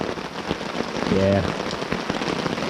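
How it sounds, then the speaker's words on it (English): Heavy rain drums on a car during a camping trip in the woods, a dense steady patter with close drops, and a voice speaks briefly over it. "As you can probably tell, it's still raining."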